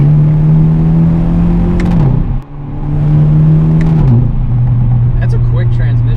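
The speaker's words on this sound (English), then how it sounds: "That's a quick transmission. It's a dual clutch transmission." A Hyundai Elantra N accelerates hard with its dual clutch transmission, the engine drone rising in pitch and then stepping down at two quick, crisp gear changes, heard loud from inside the car.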